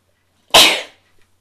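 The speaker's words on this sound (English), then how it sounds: "I feel like I have to sneeze." A single loud, close sneeze bursts out sharply and trails off over about half a second, with near silence around it.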